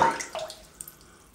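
Water is dribbled onto a puck of Laugar shaving soap: a short splashy pour at first, then a few small drips fading into quiet, with no talking.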